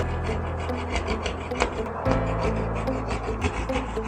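Drywall is cut slowly by hand, giving a rough rasping scrape in short repeated strokes, close and moderately loud.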